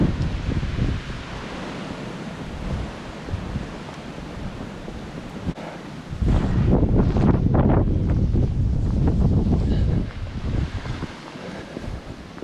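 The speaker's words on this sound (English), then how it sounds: "riding into a nice headwind too" A strong headwind on a snowy winter hike in the Barrington Tops, loud steady buffeting rush across the microphone that swells harder midway before easing, with no talking.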